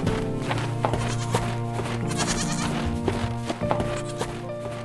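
Bleating from white goats carried on a green truck's trailer in a cheerful farm cartoon, repeated cries over a steady, busy background of music and effects, fairly loud throughout.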